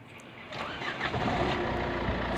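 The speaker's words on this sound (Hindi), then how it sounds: "तो ये मैंने गाड़ी को स्टार्ट किया है।" A Ford Figo car's engine starts up, a quick crank catching into a steady, fairly loud idle that carries on to the end.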